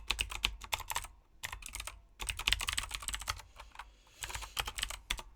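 Computer keyboard typing out Java code, rapid clusters of keystrokes in bursts separated by brief pauses, close and fairly loud with no talking.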